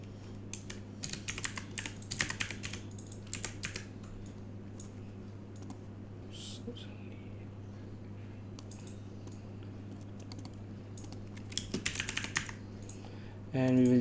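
Computer keyboard typing in a quiet room, bursts of quick keystrokes on and off with brief pauses, set over a steady low hum.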